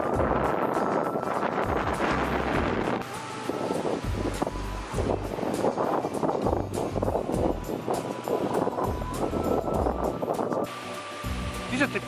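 Strong northwest wind buffets the microphone while cycling the Eurovelo 9a route near Leobersdorf at about 11.6 °C, a loud continuous roar with gusty surges that persists throughout.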